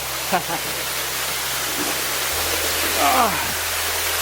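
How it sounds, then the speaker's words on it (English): Beede Falls in New Hampshire during a winter hike: a steady, broad rush of falling water fills the whole stretch, with a few brief human vocal sounds near the start and middle. "Waterfall."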